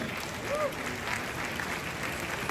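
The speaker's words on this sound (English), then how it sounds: "Please, a round of applause for them." Crowd applause at a celebration in Kumasi marking 100 years since King Prempeh I's return, a steady, fairly faint wash of clapping with a brief voice over it.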